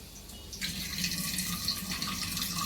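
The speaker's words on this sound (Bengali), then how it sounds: "এবার জল পড়ছে দেখো" Water running from a tap, a steady splashing flow that swells noticeably stronger after the first half second and keeps pouring evenly, close by with no voices.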